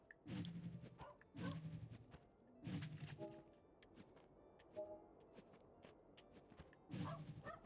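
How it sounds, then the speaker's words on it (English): A puppy in the video game Narita Boy barks in a series of short, fairly close yaps of about five or six, spaced roughly a second apart, against a quiet background with no talk. "That is a puppy."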